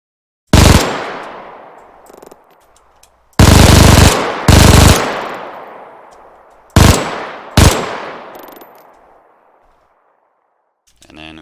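A WW2 MG42 machine gun fires in Arma 3 with the IFA3 mod: five loud, close bursts of rapid fire, each ending in a long echoing decay, with gaps of silence between them.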